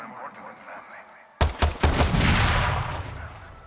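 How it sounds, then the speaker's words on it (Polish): Explosions go off in the video game Far Cry 6, at a tobacco farm: a sudden loud burst of several sharp blasts in quick succession, then a long rumbling roar and debris noise slowly fading out. "Z tej strony wybuchło."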